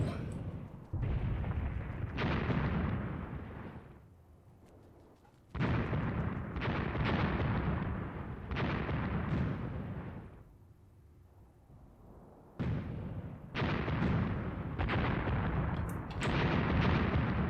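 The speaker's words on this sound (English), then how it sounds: "our mortars are landing in that area" Mortar shells land in the war game Graviteam Tactics: Mius Front, giving heavy booming blasts with long rumbling tails. Several come in clusters, separated by quieter gaps, and sound loud and fairly close.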